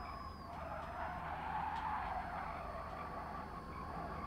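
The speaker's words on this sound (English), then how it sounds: "All I can hear is incessant tyre squealing." Racing cars in the Gran Turismo Sport video game squeal their tyres continuously through corners, a steady, fairly loud screech over engine roar for the whole stretch without any talking.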